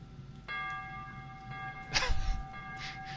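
A bell in Metro Exodus is struck once and keeps ringing with steady, sustained overtones that slowly fade, while a brief rough rustling burst passes midway.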